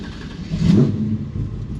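A 632ci Merlin big-block V8 in a 1970 Chevrolet Chevelle SS cranks and catches, a deep low rumble swelling briefly then settling into a rough, loud idle close by.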